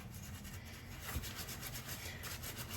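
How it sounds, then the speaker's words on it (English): A sponge with Bar Keeper's Friend cleanser scrubs an estate-sale find, giving a soft, steady, close rubbing scrape with no talk. "Take your sponge, and now we're gonna scrub."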